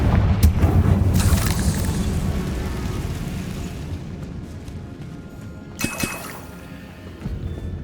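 A Confringo blasting spell explodes in Hogwarts Legacy with a heavy booming blast and a long rumbling, crackling tail that fades over several seconds. A second sharper burst comes near the end.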